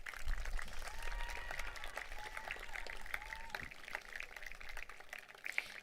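Parents and family in the stands at an 8th grade promotion ceremony are applauded by the students: a steady, moderately loud patter of clapping from a large crowd lasting several seconds, slightly distant, with faint background murmur.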